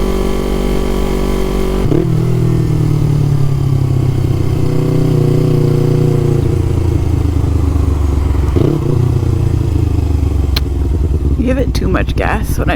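A motorcycle engine revs up sharply as the rider downshifts on a ride, the loud mid-pitched engine roar rising and falling across two blips with wind rushing past throughout.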